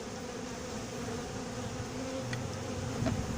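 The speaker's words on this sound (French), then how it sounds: "Et voilà les abeilles à l'intérieur, qui sont toutes agrippées les unes aux autres." Honeybees clustered inside an opened horizontal beehive, a steady, low, dense buzzing hum that is quiet and even, with a couple of faint clicks.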